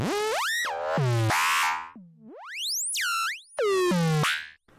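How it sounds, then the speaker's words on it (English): Modular synthesizer with saw and square waves fading in and out, producing wild sweeping pitch glides that rise and swoop, buzzy and bright, with brief gaps between the swells. "you've got that crazy pitch sound coming in and out"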